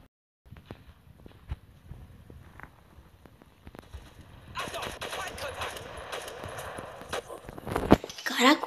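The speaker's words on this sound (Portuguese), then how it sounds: "eu acho que eram duas pessoas atirando em mim" Gunfire in the online shooter World War Heroes during a team deathmatch, heavy bursts of automatic fire with loud pops building over the second half, sparse shots earlier, no talk.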